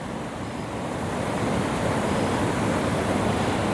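Water pours steadily over a small makeshift dam on the Ebro river in Spain, a continuous broadband rushing wash that stays loud and even throughout with no voices.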